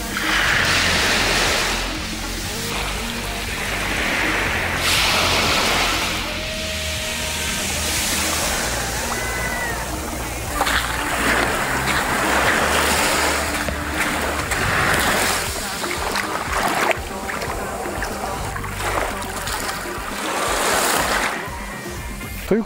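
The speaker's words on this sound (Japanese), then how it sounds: "それではしばし海をご堪能ください。" Ocean surf rolls in steadily at Kin Sunrise Beach in Okinawa, a loud, continuous wash of breaking waves with no voices.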